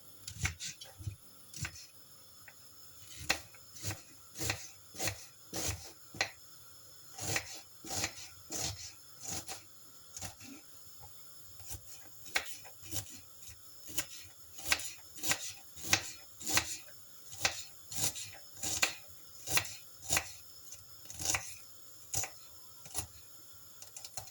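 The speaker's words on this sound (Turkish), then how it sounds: "hepsini şöyle sırayla doğramaya başlıyorum" A knife chops onions and peppers steadily on a cutting board, sharp regular taps in quick bursts with short pauses, close but fairly quiet.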